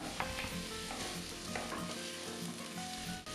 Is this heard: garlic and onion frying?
yes